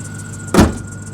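A battered, salvage-auction Ford F-150 pickup idles with a steady low rumble, broken by one brief, louder burst just past the midpoint.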